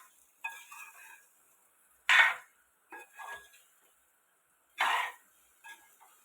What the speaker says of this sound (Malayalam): ഇനി നന്നായി നെല്ലിക്ക ഒന്ന് ഇളക്കാം